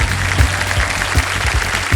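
Studio audience applauding the contestants on the KBC game show set, a dense steady clapping with regular thumping beats, close and loud for the whole stretch.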